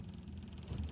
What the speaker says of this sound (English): That's the sound of the boat motor.